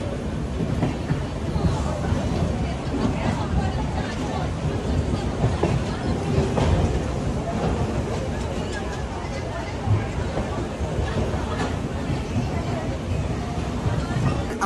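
Howrah to Digha passenger train running on rails, a continuous loud low rumble and rattle of the carriage with faint rhythmic clatter, heard from inside among the babble of passengers talking.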